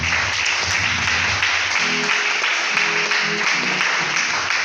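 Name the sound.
congregation applauding the Lord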